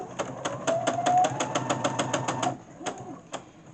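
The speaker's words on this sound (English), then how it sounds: "I'm just straight sewing them together with a 1/4 inch seam." A sewing machine runs a straight quarter-inch seam joining quilt pieces, a quick rapid rhythmic patter of stitching for about two and a half seconds, then a couple of isolated clicks, close and moderately loud.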